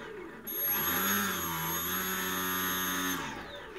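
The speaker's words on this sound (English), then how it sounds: "Let's go ahead and spool it up real quick and just listen to the motor noises." An FPV Model Motors MC2204 2300kv drone motor on a 3S LiPo spools up into a loud, steady high-pitched whine, holds for about three seconds, then winds down, close and alone without talk.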